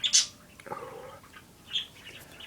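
Birds chirp in short bright bursts, a sharp tweet at the start and another after a pause, with a soft rustling sweep between them over quiet background.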